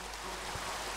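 Steady rain in the Minecraft video game, survival on a floating sky island: a continuous, even hiss of falling rain with no talk over it.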